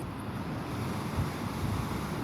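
Sea waves at the shore near Car Nicobar, a soft rushing wash of surf mixed with wind buffeting the microphone, steady and fairly quiet for a brief moment.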